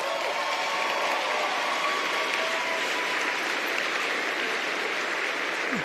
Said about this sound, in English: is that fake clapping?